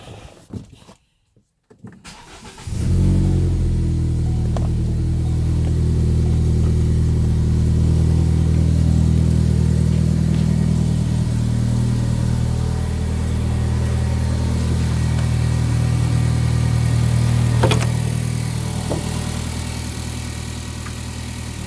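A 2012 MK3 Ford Focus with an FX Works cold air intake and modified exhaust starts up, then runs loud and steady close by for a long stretch. Its engine holds a droning note with mild swells.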